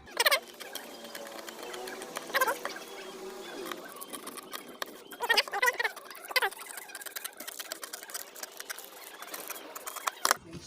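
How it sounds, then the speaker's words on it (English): Scissors cutting a round neckline from fabric, with crisp repeated snips and rustling cloth in close, irregular bursts spread throughout. "At this point, we can cut out a round neckline."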